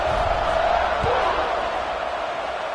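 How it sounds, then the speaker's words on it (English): Football stadium crowd buzzing after a touchdown drive as the kickoff approaches, a dense, steady roar of many voices that holds loud and continuous throughout, with one brief thump near the middle. "this crowd is buzzing after that last score"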